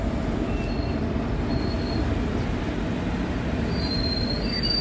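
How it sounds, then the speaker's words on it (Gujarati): Passenger train of the Bhuj to Rajkot daily special pulling into Maliya Miyana Junction platform 1, wheels squealing in high thin tones over a steady loud rumble of rolling railcars. "આપણું અરાઇવલ થઈ રહ્યું છે માળિયા મિયાણા જંકશન પ્લેટફોર્મ નંબર 1 ઉપર"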